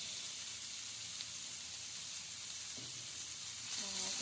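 Capsicum frying in a pan with black olives and tomato sauce, a steady loud hiss and crackle of hot oil throughout, with a faint clink and a short stretch of talk near the end.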